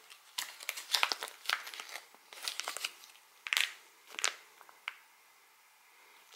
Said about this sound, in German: Werde ich jetzt mal auspacken